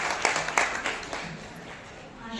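Audience applause breaks out at an award ceremony for women, welcoming a guest. Brief scattered claps rise and fade over about two seconds, fairly faint and mixed with room noise.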